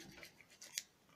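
Scissors snip the corner of a handmade guitar plectrum, giving a faint, soft rubbing crunch that ends in one sharp, quiet click up close.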